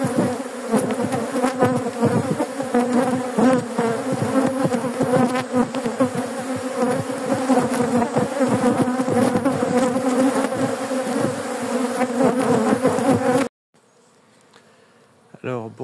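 An aggressive honeybee colony swarms at an opened hive during the year's first inspection, a dense, loud, steady buzzing of many bees close by that cuts off abruptly near the end, leaving faint scattered buzzing.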